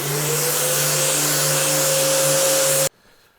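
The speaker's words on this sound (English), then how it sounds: "I just got my EcoSand 3x4 sander and my vacuum hooked" A steady, loud motorized whine from an EcoSand 3x4 orbital sander with a vacuum attached, its rushing roar running continuously for about three seconds, then cutting off abruptly to near silence.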